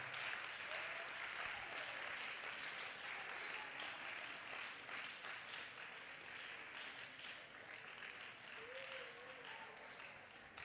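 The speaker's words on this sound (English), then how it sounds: "we'll give a round of applause for Focus Counseling for organizing" Crowd applause for Focus Counseling at a live-streamed event, a steady sustained wash of clapping at low level throughout, with faint voices and a few whistle-like tones mixed in.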